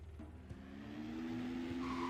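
A car driving in the video game Super Bear Adventure, a steady engine drone with a tire-squeal-like tone rising toward the end, quiet overall.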